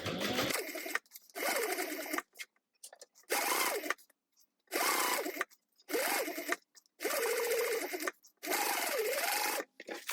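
A sewing machine stitches a black tote bag panel in six or seven quick bursts of rapid whirring, each lasting about a second with short pauses between, close and clear.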